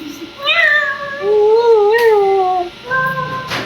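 A person imitates a cat's meow with a few drawn-out, rising and falling mewing calls, loud and close, in a sequence of three vocal meows with short pauses between.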